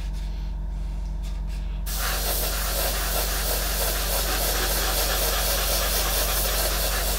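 Steady broadband hiss of an airbrush spraying Vallejo Metal Color acrylic paint, starting softly then opening up to a continuous, even spray that holds for several seconds.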